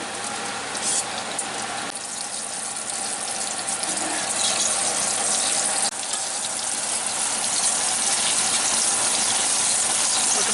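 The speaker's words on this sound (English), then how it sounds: "Frying them up." Tomatillos frying in a pan, giving a continuous dense sizzle and hiss that holds steady and grows slightly louder toward the end, heard close up with no talking.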